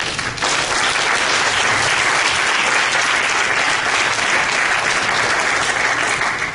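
A church congregation breaks into loud, sustained applause, a thick wall of many hands clapping together at close range, steady from start to finish with no voices over it.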